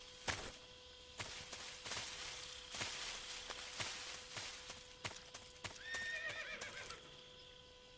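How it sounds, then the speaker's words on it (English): In the Metal Gear Solid 3 video game, a horse's hooves clop in a steady series of sharp knocks, and near the end a clear whinny rises and wavers over a faint game backdrop. "¿Un caballo? ¿Aquí?"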